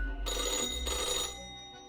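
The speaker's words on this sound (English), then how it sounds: "The phone." A telephone rings in the video game Death and Taxes, a bright electronic bell trilling in two quick bursts before fading, heard alone without talk.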